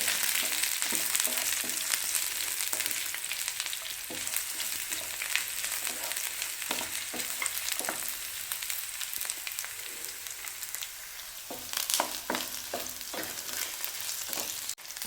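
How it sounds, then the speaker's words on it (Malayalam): Ginger, garlic and green chilies sauté in a pan for a mixed vegetable pickle, making a continuous close crackling sizzle broken by frequent sharp scrapes and taps of the spoon, with no voices. "ഇഞ്ചിയും വെളുത്തുള്ളിയുടെ ഒന്ന് വഴറ്റി പച്ചച്ചവയൊക്കെ ഒന്ന് മാറി അതിന് ശേഷം നമുക്ക് പച്ചമുളക് ചേർത്ത് കൊടുത്താൽ മതി"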